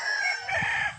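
A rooster crows at a gamefowl farm, a loud, close, sustained cock-a-doodle-doo call that fills the whole moment.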